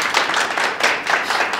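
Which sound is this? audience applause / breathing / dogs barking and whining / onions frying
audience applause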